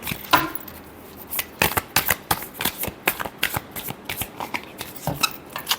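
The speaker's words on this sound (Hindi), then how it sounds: "last shuffle" Tarot cards are shuffled close up in a quick run of crisp riffling slaps and flutters for about six seconds, with short pauses between bursts.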